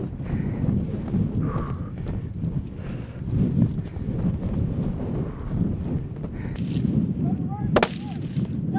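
A single sharp rifle shot rings out near the end during a chase after a running bull caribou, over steady wind buffeting and outdoor rumble.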